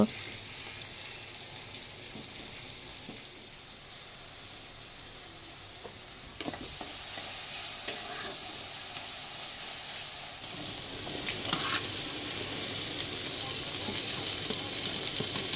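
Vegetables for Maggi fry in a pan with a steady, moderate sizzle, broken by scattered scraping and clacking as they are stirred, running evenly throughout.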